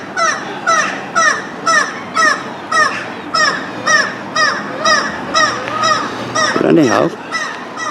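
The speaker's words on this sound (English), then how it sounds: "God, seagulls going crazy here." Seagulls calling raucously beside the Grand Hotel in Scarborough by the North Sea, a rhythmic series of loud, repeated cries about every half second, with someone briefly talking near the end.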